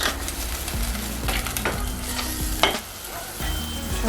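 Fresh borlotti beans sizzle steadily in a hot pot while a spoon stirs and scrapes through them in repeated strokes, close up and with no talking.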